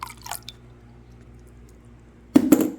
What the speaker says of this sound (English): now I'm going to add the apple cider vinegar to it